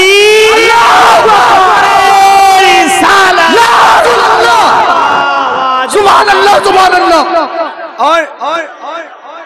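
A large crowd at a religious gathering roars back in unison to the Naara-e-Takbeer chant, with loud overlapping shouts that swell and then break into ragged cries and fading calls.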